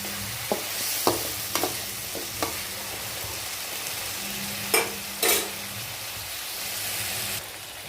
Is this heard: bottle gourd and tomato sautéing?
yes